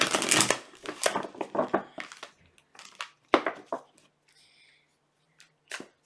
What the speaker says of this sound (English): we're going to kind of shuffle it like this